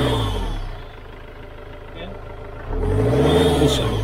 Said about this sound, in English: There was a whistling whining noise similar to this.